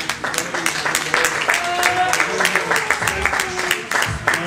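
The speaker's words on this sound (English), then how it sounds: "can we give the Lord a hand clap of praise?" A church congregation gives a hand clap of praise, crowd clapping with distinct sharp claps over a steady bed, while voices call out and speak above it.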